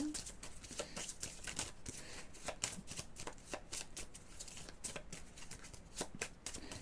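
Tarot cards are shuffled close up in rapid bursts of riffling and flicking, a quick irregular papery rhythm that stays fairly soft and continues throughout the clip.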